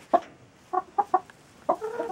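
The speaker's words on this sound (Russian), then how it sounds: "Дала свеклы амируканам. Хорошие куры." Laying hens clucking in a winter coop after being fed fodder beet: a handful of short, close clucks in uneven bursts, with a softer run of murmuring at the end and no talking.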